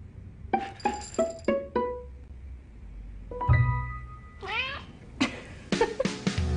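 A cat meows several times in a cat food commercial, mixed with bright clinking chimes of glass or dish, the tones rising and falling in a lively sequence; no speech is present.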